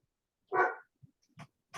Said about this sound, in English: You're like an annoying dog.